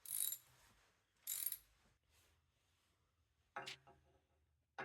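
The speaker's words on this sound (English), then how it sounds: "I'm just going to screw it up and tighten these bolts that go into it." A ratchet tightens bolts on the rear axle of an MTD mower, short bursts of crisp clicking separated by quiet pauses, close and fairly soft.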